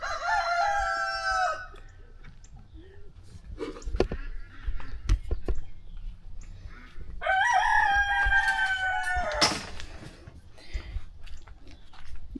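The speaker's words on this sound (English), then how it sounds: "Y'all think it's loud in the afternoon with all the roosters." Two loud rooster crows, one at the start and another midway, with scattered clicks and crunching sounds between them.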